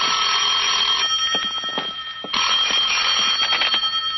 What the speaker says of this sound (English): At 10, my phone rang.